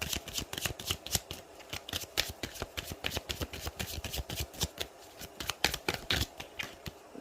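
A deck of tarot cards is shuffled and drawn by hand, giving quick, irregular papery riffles and snaps that repeat close to the microphone, fairly quiet, with no voices.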